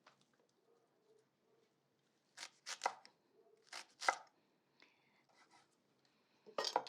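A knife cuts the top leaves off leeks in several crisp, close cuts. The cuts come in short clusters against quiet surroundings, with faint soft sounds between them.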